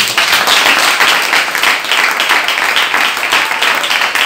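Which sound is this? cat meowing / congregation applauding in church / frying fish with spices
congregation applauding in church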